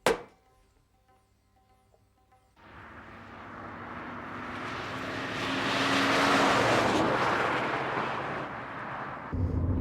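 A car drives fast, its engine and road roar building from quiet to a loud, sustained rush that peaks and then eases slightly, heard from inside with no talk.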